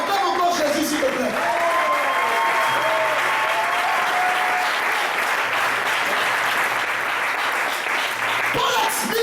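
A church congregation claps steadily and loudly to acclaim Jesus, a continuous dense wash of applause lasting throughout, with voices calling out over it.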